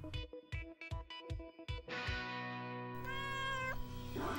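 A cartoon kitty in a Paw Patrol toy play scene gives one clear, high meow, heard alone after a run of rhythmic plucked musical notes and a sustained tone.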